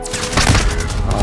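A short, loud, close burst of rapid gunfire in Call of Duty Modern Warfare, dense repeated shots blending into one sustained volley with no talk.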